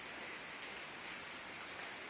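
Rain falls in a steady, even hiss, a dense wash of drops heard alone at low level without any voices.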